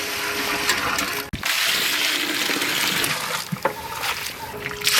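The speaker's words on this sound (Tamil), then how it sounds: "6 வாளி தண்ணி சேர்ப்போம்" Water pours steadily in a rushing stream into a cooking pot for biryani, with a brief clunk partway through and a few splashy bumps near the end.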